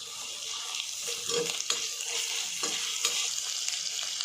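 Green chillies frying in oil in a pan for a mushroom and capsicum dish give a steady bright sizzle, with occasional clicks as the pan is stirred and no talking.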